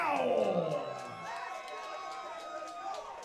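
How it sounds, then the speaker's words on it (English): An MMA event crowd roars and cheers in an arena as a fighter hypes them up, the noise swelling loud at first, then settling into a steady, echoing din. "Ricardo Powell amping up the crowd here."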